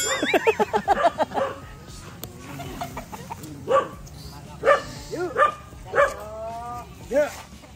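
A dog barks several times in spaced bursts, with a rooster-like call and a voice speaking over the start.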